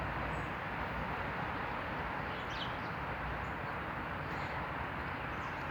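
Steady broadband roar of cars passing by outdoors, a continuous traffic wash filling the background with faint bird calls flickering above it.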